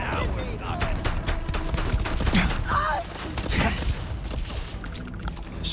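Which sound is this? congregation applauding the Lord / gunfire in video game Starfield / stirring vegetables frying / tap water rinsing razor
gunfire in video game Starfield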